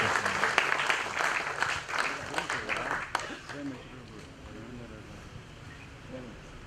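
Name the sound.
audience applause at a book launch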